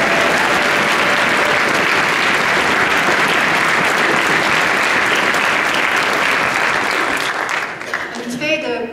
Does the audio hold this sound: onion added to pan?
no